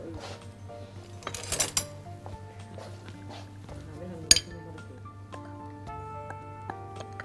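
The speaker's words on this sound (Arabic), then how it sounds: "ونقلب شوية." A spoon stirs cake batter in a glass bowl, making scattered light clinks and scrapes with a few sharper taps, close and fairly quiet beneath a low steady hum.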